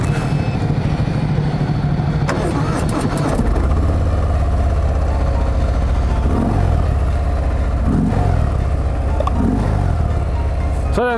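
A Harley-Davidson Fat Bob motorcycle engine idles with a steady, loud, deep rumble throughout, a brief clatter early on, and a few slight blips in pitch, with no talking.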